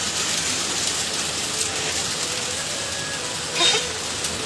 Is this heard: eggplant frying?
no